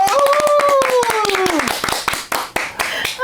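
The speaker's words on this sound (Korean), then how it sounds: "박수 한번 치고 들어갈게요" A studio panel claps together on a count in a Korean talk show, with rapid, close hand claps under a rising and falling sung or called voice.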